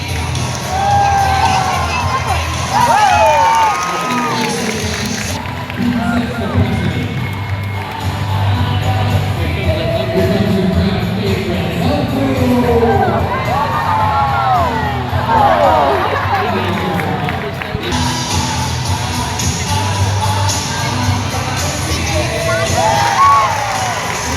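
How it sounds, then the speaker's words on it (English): A loud crowd at a horse-themed fair event cheers, whoops and shouts for a dog named Jericho up on stage, a dense, sustained roar of mixed adult and children's voices that swells and dips over many seconds. "Who's cheering on Jericho up on stage?"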